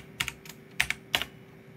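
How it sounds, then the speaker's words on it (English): Keys clicking on a computer keyboard as terminal commands are typed on a Raspberry Pi 4, a few short separate bursts of taps, close and fairly quiet, no voices. "Start the terminal and just type in the commands."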